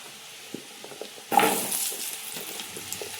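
Cauliflower florets dropped into hot oil with potatoes for a spicy mixed vegetable dish, a sudden loud burst of sizzling that settles into a steady crackling fry, with faint stirring and pan clinks.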